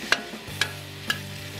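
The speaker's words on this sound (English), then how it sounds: "Get that stir fried up a bit. Don't take long, you can hear it sizzling." Beef and broccoli stir fry with vegetables sizzling in hot oil in a pan, three sharp scraping stirs over a low steady sizzle, close and clear with no talk.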